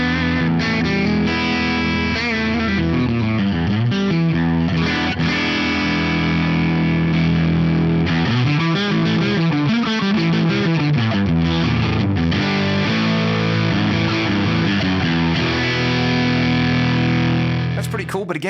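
Electric guitar played through presets on an AM4 amp modeler, with distortion, chorus and echo effects; chords and sliding notes ring out loud and continuous for the whole stretch.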